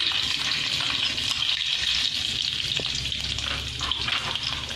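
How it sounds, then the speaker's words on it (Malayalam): Fenugreek seeds spluttering in hot oil for kaalan curry, a loud continuous frying sizzle with fine crackling pops throughout, close and alone without voices. "ഉലുവ പൊട്ടിക്കൊണ്ടിരിക്കുകയാണ്."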